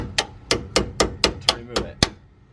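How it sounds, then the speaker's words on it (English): A hammer drives a screwdriver to pry a strut assembly loose during a car suspension job, giving about seven sharp, close metallic strikes at a steady, even pace. "Just used my driving screwdriver and a hammer."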